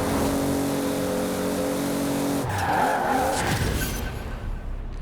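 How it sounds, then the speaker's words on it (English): A Toyota race car in Forza Horizon 4 holds a steady engine drone, then breaks into a loud drift with sweeping tire squeals that fade toward the end, with no talking over it. "And drift our way into the finishing line."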